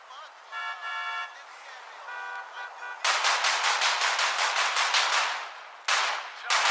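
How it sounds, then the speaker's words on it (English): Rapid bursts of gunshots in real shooting footage, a dense volley of sharp cracks fired repeatedly at a man, preceded by an electronic tone and followed by a second short burst after a pause. "The 83 member would turn around and would shoot Big Joe multiple times."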